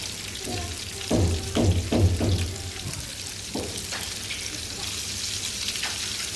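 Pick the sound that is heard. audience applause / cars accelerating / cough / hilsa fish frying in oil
hilsa fish frying in oil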